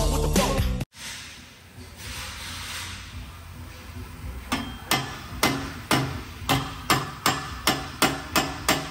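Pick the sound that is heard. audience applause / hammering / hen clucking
hammering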